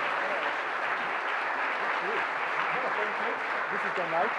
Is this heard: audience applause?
yes